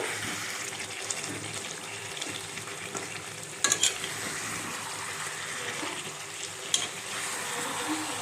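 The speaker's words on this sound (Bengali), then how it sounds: "এখন আমি কিছুটা সস দিয়ে দিচ্ছি, টমেটো সস অল্প করে দিয়ে আমি আবার একটু নেড়ে চেড়ে দেবো" Chicken curry with tomato sauce stirred in a pan, a steady low frying sizzle with scraping spoon strokes, two brief louder clatters near the middle and end.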